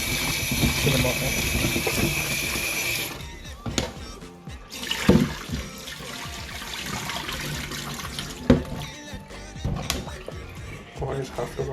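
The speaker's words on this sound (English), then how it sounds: "I've got some veg which I'm now going to wash" Tap water runs in a steady hiss for the first few seconds while chopped vegetables for Jamaican curry mutton are washed, followed by quieter splashes and clatter in a kitchen.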